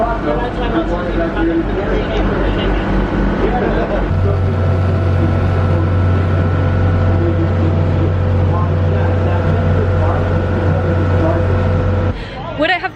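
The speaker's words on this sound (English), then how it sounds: "We're gonna head back in the boat." A boat engine hums steadily with water noise during a ride at Epcot, a constant low drone heard close by while people talk over it throughout.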